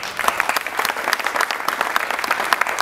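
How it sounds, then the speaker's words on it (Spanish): An audience at a cycling team presentation for EPM Tigo Une in 2016 gives sustained, dense applause, fairly close and loud, with some crowd noise under it. "vamos a regalarles un fuerte aplauso para estos nuevos integrantes"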